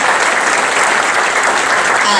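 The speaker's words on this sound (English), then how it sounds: "Let's give them a round of applause." A dense, loud round of applause from an audience at a school town hall honoring faculty and staff, continuous clapping throughout with voices blended into the noise.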